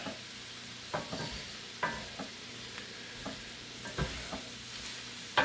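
Kielbasa sausage searing in a Lodge enameled cast iron pan gives a steady close sizzle, broken by occasional scrapes and taps of stirring, with no one talking.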